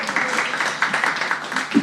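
An audience applauds and cheers a winner handed a cash-prize cheque during a televised draw, a dense burst of clapping lasting under two seconds, with voices mixed into the crowd noise.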